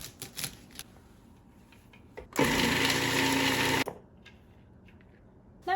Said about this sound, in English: We're going to be chopping this up, putting it into the food chop.